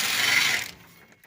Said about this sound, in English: I just got a 3-inch extension and a 19 millimeter on my impact here